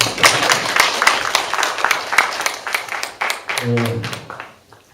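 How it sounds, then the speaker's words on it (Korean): Audience applause at a sea-themed mentoring lecture, a dense patter of many hands clapping near and lively for several seconds, briefly overlapped by a speaking voice before fading out. "박수 한번 불러주세요."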